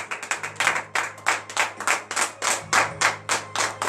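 A congregation at morning prayer claps together in praise, with steady, rhythmic group claps at a brisk even tempo, fairly close and continuous, with a low hum underneath.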